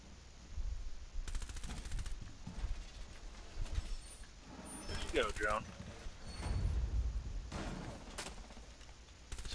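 Rainbow Six Siege gunfire aimed through a hole in a wall: loud bursts of automatic fire and single shots come at intervals over low game ambience, with weapon mechanism clatter. Voices speak in between.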